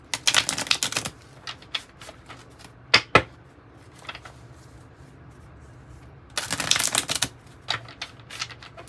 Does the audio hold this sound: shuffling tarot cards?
yes